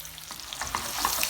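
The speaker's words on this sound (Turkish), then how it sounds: "Bu şekilde kızartacağız." Meatballs for yanardağ kebab fry in hot oil in a pan with a close, bright sizzle and scattered crackles and pops, steady and moderately loud.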